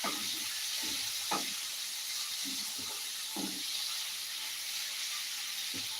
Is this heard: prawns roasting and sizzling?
yes